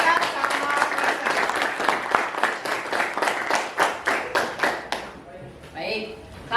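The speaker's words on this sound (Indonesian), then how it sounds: "Kita kasih aplaus untuk teman kita Cika sama Fransa." Classroom applause for two students, Cika and Fransa, in an Indonesian school lesson: a steady burst of many hands clapping for about five seconds, then fading into quieter room noise.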